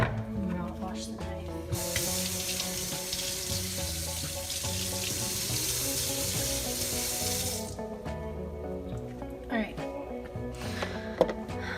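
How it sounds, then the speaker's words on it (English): Kitchen tap water runs steadily over a knife being rinsed after cutting seeds while preparing a roasted corn summer salsa, a broad continuous hiss lasting several seconds, close by, with a person talking over it. "And then I'll wash the knife."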